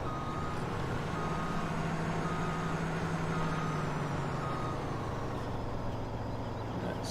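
A truck in Farming Simulator 17 reverses with steady repeating back-up beeps over a constant low engine drone, with no talk.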